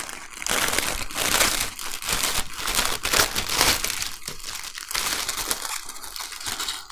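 Plastic packaging crinkles and rustles steadily as a resealable bag from a 1/72 scale plastic model kit is opened and handled up close, with fairly loud bursts of crackling throughout.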